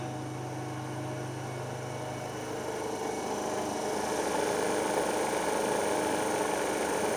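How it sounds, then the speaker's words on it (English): A DC shunt motor starting up on a lab bench: a steady electric hum and whir that grows slightly louder partway through, with continuous broadband mechanical noise. "start the DC shunt motor"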